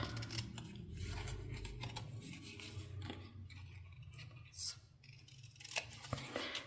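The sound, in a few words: scissors cutting along a score line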